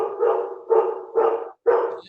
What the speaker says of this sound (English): Somebody has a dog.